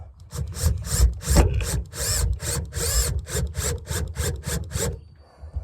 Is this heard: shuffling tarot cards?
no